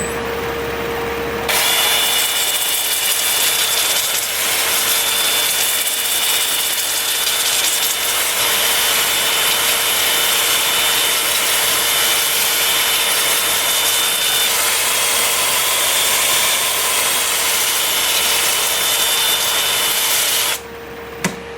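Power sanding of a turned wood pedestal with 120 and 180 grit, a steady loud whirring hum with scratchy friction running continuously for about twenty seconds before stopping, close and alone.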